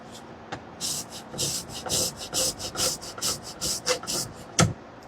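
Fresh ginger being scraped, a series of about a dozen rhythmic close rasping strokes, each short and scratchy, with brief gaps between them and no talking.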